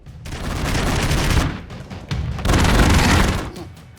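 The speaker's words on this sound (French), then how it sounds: "Donc les deux tirent dessus, mais est-ce que ça va suffire à se tuer?" Bursts of rapid gunfire from the Broforce video game come in two dense loud volleys separated by a brief pause, with booming impacts mixed in.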